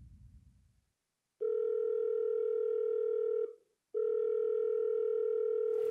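A telephone call rings out with two long, steady ringback tones separated by a short gap, clear and alone after a brief low murmur at the start.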